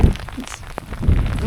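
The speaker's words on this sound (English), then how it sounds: "rain blowing in right now." Rain blowing in on an Appalachian Trail mountain stretch near Grafton Notch, heard as a close, gusty rush with patters and wind buffeting, loud and steady, with no talk.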